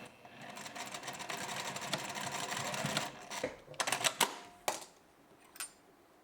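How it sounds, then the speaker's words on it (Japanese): A sewing machine runs a rapid, even mechanical stitching burst while back-stitching to secure a buttonhole end on a shoulder bag, then stops. A few short clicks and handling sounds follow, close and quiet. "ミシンの 往復 返し縫いで留めてもいいです。"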